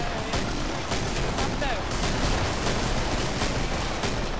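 Shotgun blasts in the co-op shooter Killing Floor fire in quick succession amid continuous loud gunfire and chaotic combat noise.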